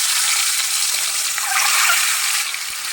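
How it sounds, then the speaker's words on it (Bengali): Potatoes and eggs frying in hot oil, a steady dense sizzle that holds evenly close by for the whole stretch, easing slightly toward the end, with no talk. "তেল গরম হয়ে গেছে, খুব আমি আলু আর ডিমগুলো হালকা ভেজে নেব।"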